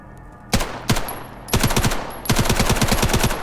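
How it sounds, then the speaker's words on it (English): Test firing of a lower-RPM gun in Stalker Gamma: a few single shots, then two loud, close rapid bursts of gunfire with no talk over them. "Only use it for Hydroshock. Do some shoot testing."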